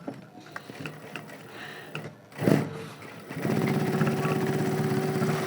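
A sewing machine stitches a nonwoven bag, starting after some clattering handling and then running in a steady, loud, even mechanical whir with a humming tone until the end.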